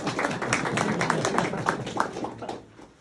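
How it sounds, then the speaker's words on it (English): Students clapping for themselves at a signing day event, a lively patter of many hands at moderate distance that holds steady for most of the stretch, then thins out and fades near the end. "Give yourselves one more round of applause. No, clap for yourselves."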